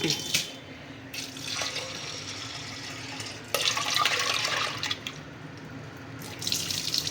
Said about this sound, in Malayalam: പരിപ്പ് കഴുകി പരിപ്പിൽ പൊടിയൊക്കെ ഉണ്ടാവും